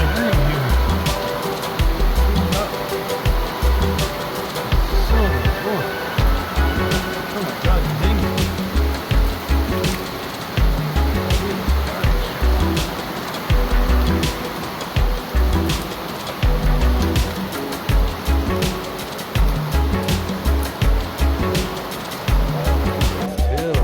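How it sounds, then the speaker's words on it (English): Heavy pouring rain in Tarrafal, Cape Verde, makes a dense, steady hiss with a scatter of sharp patters and drips, loud and unbroken for the whole stretch. "It's pouring rain."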